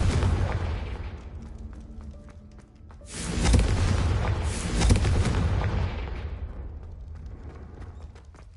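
Confringo spell explosion in a Harry Potter video game, a loud booming blast after a quieter lead-in, then a long rumbling decay that fades out.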